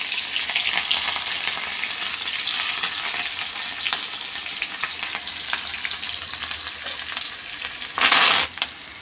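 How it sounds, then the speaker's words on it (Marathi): Green chilies sizzle in hot tempering oil for Maharashtrian upma, a steady close crackling fry that runs throughout and swells in a brief louder burst near the end, with no talking. "आता मस्तपैकी फोडणी झालेली आहे। हिरवी मिरची टाकूया"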